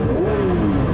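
Porsche 911 S/T (992) flat-six revved with the clutch in, a loud, close engine note that climbs and falls back quickly in a single sharp blip, with no talking over it.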